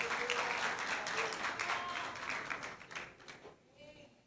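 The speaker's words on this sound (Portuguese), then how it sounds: "pode aplaudir a Jesus" A church congregation claps in praise of Jesus during a worship service, a dense burst of applause that gradually thins and fades toward the end, with some voices mingled in.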